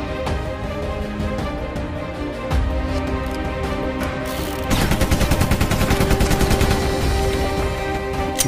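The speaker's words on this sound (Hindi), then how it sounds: "फुल्ली ऑटोमेटिक बंदूक जो होती है गन होती है वो कंटिन्यू फायर करती है" Animated sound effect of a fully automatic gun firing continuously: a dense, steady burst that grows into a rapid, even stream of shots in the second half, loud and alone with no voices.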